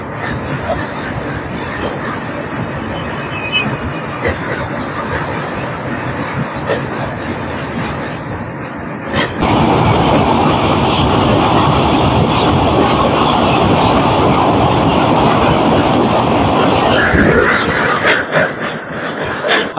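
Kanchankanya Express train running on rails between Siliguri and Sealdah, a steady loud rumble and rattle throughout that swells sharply halfway and stays heavy, no voices.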